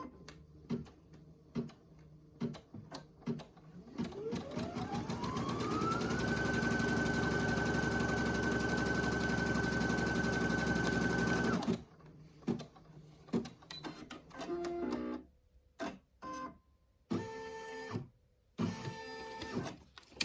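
A sewing and embroidery machine stitching the zipper tack-down for a basic top-zip bag: a steady mechanical whir that rises in pitch and runs loud for several seconds, then stops, leaving scattered clicks and handling noises.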